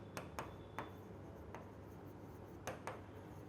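A pen or marker makes faint, sparse writing strokes during a chemistry lesson. A handful of short scratchy taps come from close by in an otherwise quiet room, with no speech.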